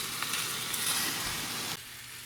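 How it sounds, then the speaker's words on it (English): Canned mushrooms brown in a pan, giving a steady, close, broadband sizzle that holds evenly with no talk and then drops quieter near the end. "we're going to just kind of brown up all those mushrooms"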